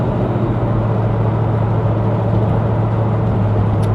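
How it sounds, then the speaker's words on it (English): A 1972 Chevelle with a small block engine, factory manifolds and glass pack exhaust idles steadily, a low, even rumble with a constant droning hum that holds at the same level throughout. "it's got factory manifolds with these glass packs, it actually sounds cool"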